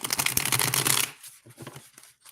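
A deck of divination cards is riffle-shuffled in a quick, dense run of crisp flutters lasting about a second, followed by a few softer taps and card handling sounds nearby.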